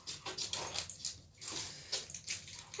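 A German Shepherd assistance dog fetches a set of metal keys and delivers them to a hand, with scattered metallic jingles, soft scuffles and faint dog sounds close by, no talking.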